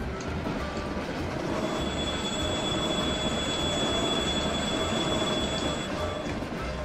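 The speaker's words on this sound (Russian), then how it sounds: "Все, поезд отправился." A Minecraft train pulling away from a station, giving a continuous rumbling roll of wheels on rails with a faint, steady high squeal running through it; loud, constant and alone, with no voices.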